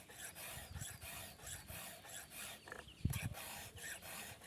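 A metal file rasps against a chainsaw chain in steady, repeated strokes, quiet and close, with one louder knock partway through.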